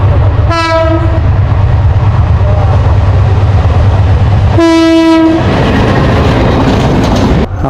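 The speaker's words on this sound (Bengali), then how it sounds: "ওই যে ট্রেন আসতেছে" A train runs along a railway line with a loud continuous rumble and clatter close by. Two long blasts of its horn sound, one near the start and another past the middle.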